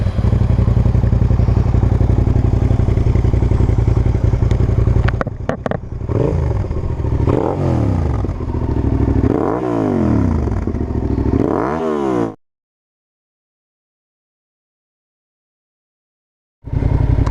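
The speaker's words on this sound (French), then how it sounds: "est-ce que tu peux nous faire écouter un peu le son de ta moto?" A Suzuki SV 650 motorcycle engine idles loud and close, then revs in several rising and falling bursts before cutting off into silence, with the engine briefly restarting at the end.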